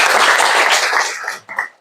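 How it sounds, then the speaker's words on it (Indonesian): A short, brisk burst of clapping from a class of students that quickly tapers off, followed by a brief trailing sound. "tepuk tangan buat kita semuanya"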